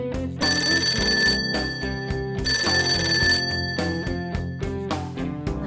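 A telephone rings in the video game Persona 5 Tactica, sounding two loud electronic trills with a pause between them over background music.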